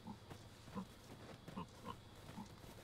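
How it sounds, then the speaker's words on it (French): A pig in Dragon's Dogma 2 gives a run of short, quiet grunts at an uneven pace over a faint, steady ambient background, with no voices. "Un cochon."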